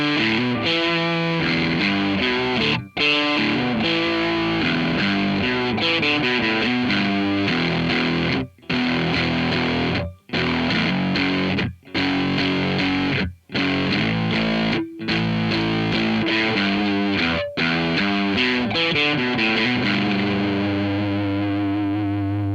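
Electric guitar through a Rocktek Distortion pedal at a lower distortion setting with the tone turned up, heavily distorted chords and riffs, loud and continuous, with a few brief pauses between phrases and a sustained ringing chord at the end.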